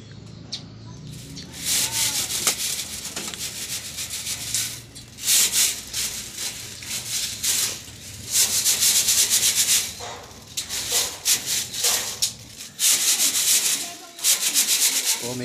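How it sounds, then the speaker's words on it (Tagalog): A broom scrapes in repeated rough sweeping strokes across the floor of a small pigeon loft, loud and close, in bursts with short pauses between them, with faint bird sounds in the background. "Medyo konting-konting walis lang. Lilinis din yan."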